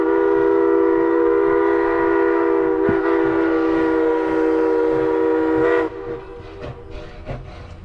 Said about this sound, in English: It's a train, baby.